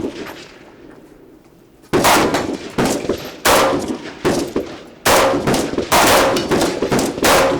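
Rapid gunfire at close range during shooting practice from behind wooden cover, loud sharp reports in quick bursts with ringing tails, after a quieter lead-in.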